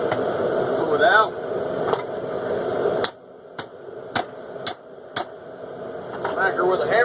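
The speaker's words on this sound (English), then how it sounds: "Smack her with a hammer." Hammer striking hot inch-and-a-half drill line cable pulled from a coal forge fire, a few sharp metallic clangs spaced about a second apart, set against a background of roaring forge noise that drops away between blows.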